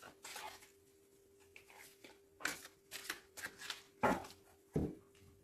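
A deck of tarot cards is cut and shuffled up close, giving soft papery swishes and a few sharper snaps in an uneven rhythm over a faint steady hum.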